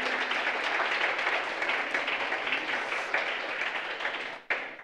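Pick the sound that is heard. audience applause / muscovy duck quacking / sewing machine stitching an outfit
audience applause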